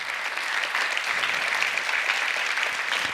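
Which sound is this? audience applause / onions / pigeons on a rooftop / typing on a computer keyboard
audience applause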